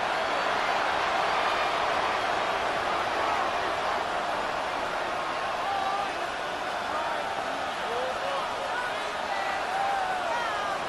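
Stadium crowd noise in the Madden 26 football video game: a continuous, dense roar of a large crowd with faint whistles and cheers rising inside it, steady and loud throughout, with indistinct voices mixed in.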